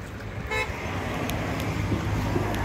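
Highway traffic in eastern Nepal with a short car horn toot early on, over a steady road rumble of passing vehicles.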